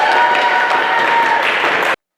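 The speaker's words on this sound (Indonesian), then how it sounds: "kita akan tepuk tangan untuk diri kita sendiri dulu" A group in a microteaching session claps for themselves, a brief burst of many hands clapping loudly and evenly before cutting off abruptly.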